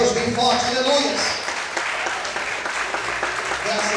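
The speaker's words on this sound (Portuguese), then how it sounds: "levanta a sua mão, aplauda e glorifique a Deus bem forte" Congregation at an evangelical church service clapping loudly and steadily, applause mixed with voices and a tonal element, dense and close throughout.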